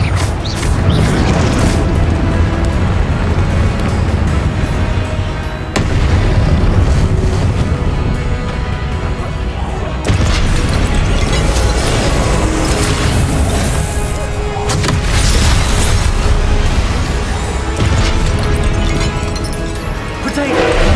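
Loud, dense booms and crashes from Confringo blasting spells in the Hogwarts Legacy video game, with continuous explosive rumble and bursts over game music and effects for the whole stretch.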